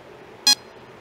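A Mastercool refrigerant leak detector gives a single short, sharp electronic beep as it picks up a leak, loud and close against quiet background hiss.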